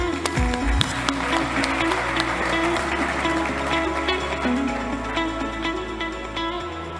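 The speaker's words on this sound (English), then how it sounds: "Please give a huge round of applause to the founder of Syntonym" An audience at a startup competition applauds a founder taking the stage, a sustained burst of clapping over loud walk-on music that holds steady throughout.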